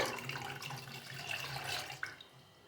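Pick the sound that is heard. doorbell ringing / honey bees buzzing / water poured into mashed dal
water poured into mashed dal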